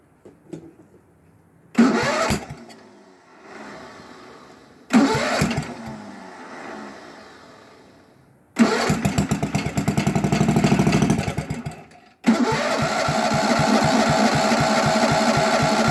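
An Onan 16hp engine on a Sears Suburban hydrostatic tractor cranks in short bursts and sputters, stops between tries, then catches and keeps running loudly and roughly.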